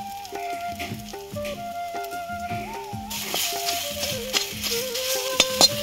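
A spoon scrapes and stirs kachori filling in a pan, with a soft, continuous sizzle throughout and louder toward the end. A steady melodic music track plays over the stirring.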